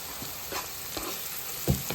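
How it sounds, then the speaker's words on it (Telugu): Steady sizzling of onions frying in a hot pan, a constant crackle with a few louder spatters and stirring scrapes; no voices. "తొందరగా వేయించాయి మనకి ఉల్లిపాయలు"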